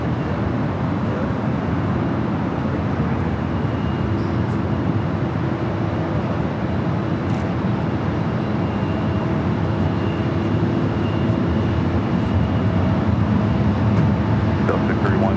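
Philippine Airlines airliner taking off at LAX, a steady broadband jet roar filling the whole stretch with a low rumble and faint background chatter.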